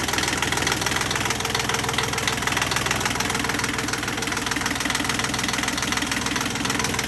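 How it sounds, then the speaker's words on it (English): A Yanmar 3GM30 marine diesel runs steadily with a Balmar alternator spinning on a catamaran, a loud continuous knocking drone with an even rapid beat, close and unbroken, no talk. "The alternator spinning."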